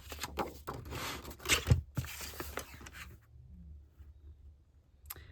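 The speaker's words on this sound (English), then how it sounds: "So I'm just going to cut strippy here and here." Scissors snip through paper strips for a shallow journal pocket, a quick run of close crisp cuts and rustles followed by quiet and one last small snip.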